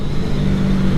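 A 2018 Aprilia Tuono Factory motorcycle engine runs hard during a ride, a loud, steady, close drone with no breaks and no voices.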